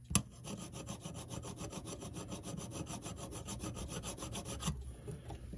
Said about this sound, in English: and I'm going to rub it down